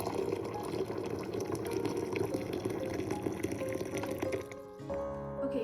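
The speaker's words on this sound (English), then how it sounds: "the instructions say we need 1 cup of boiling water, so let's get that" Boiling water pours in a steady rushing stream for several seconds, then stops abruptly, leaving a faint hum.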